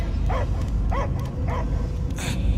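A dog in the Guardians of the Galaxy video game gives three short, sharp barks at a steady rhythm over a heavy low rumbling game soundscape, fairly close and clear.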